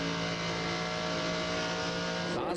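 NASCAR Busch Series race cars running three wide in a tight pack during the 2000 Auto Club 300, a sustained high engine roar heard at a distance, steady and blended, fading at the very end.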